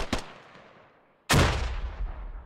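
A grenade in the military shooter Squad goes off with one sharp, loud blast that rumbles away, after a fainter distant bang a moment earlier.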